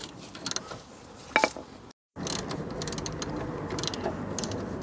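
Ratchet wrench loosening suspension bolts on a Smart Fortwo 450 rear end, quick bursts of clicking with short pauses, close by and moderately loud, with a brief silence partway through and no talking.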